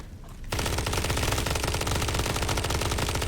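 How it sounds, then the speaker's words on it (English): The Apostle gun in the Blood Reaver video game fires a sustained, rapid automatic burst that starts abruptly after a brief quiet moment and continues loud and unbroken to the end, with no voices. "So this is the new gun, the Apostle."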